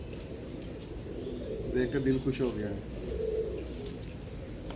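Pigeons cooing softly in a loft, a few low, throaty coos rolling in the middle of the moment, heard near but quiet beneath someone speaking calmly throughout.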